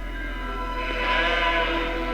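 Sheep bleating on a public road closed off and filled with a flock for a film shoot, a few wavering bleats rising over a steady low hum and background noise.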